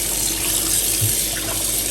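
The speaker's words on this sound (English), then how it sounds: "fish is actually enjoying some cold water here. Please use cold water." Cold tap water pours steadily over tilapia being rinsed in a sink, a continuous rushing gush filling the clip from start to finish with no voices.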